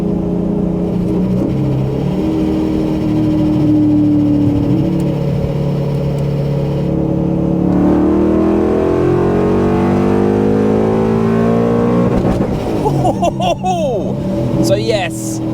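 A BMW E39 M5, its fueling issue fixed, pulls at wide open throttle. The engine note climbs steadily in pitch, loud and close and roaring throughout, with a voice speaking over it near the end.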